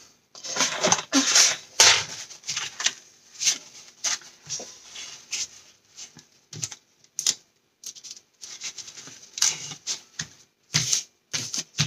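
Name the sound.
scraper pressing and smoothing glued paper for pop-up album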